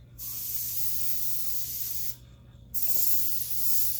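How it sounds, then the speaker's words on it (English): Close, steady hiss of an airbrush spraying blue paint for script lettering, broken by one short pause before the spray resumes. "my airbrush is working awesome right now."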